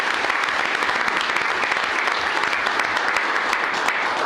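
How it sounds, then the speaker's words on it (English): A dense, steady round of applause from an audience in a county commissioners court meeting, many hands clapping evenly throughout with no talk over it. "Let's give him a big round of applause for his 30 years of service."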